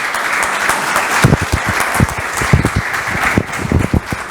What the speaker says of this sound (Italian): Ci sta tutto l'applauso